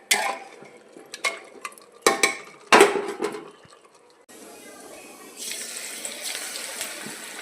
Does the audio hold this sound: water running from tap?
yes